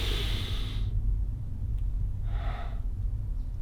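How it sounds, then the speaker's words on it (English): A person performs a deep breathing technique, with a sharp audible inhale at the start and a shorter breath a little later, close to the microphone over a steady low background rumble. "First, of course, you do the breathing technique."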